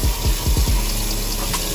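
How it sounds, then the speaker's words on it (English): Water running from a tap into a sink during handwashing, a steady continuous rush heard close up with no talk, and a few low thumps near the start. "Wash your hands for 20 seconds"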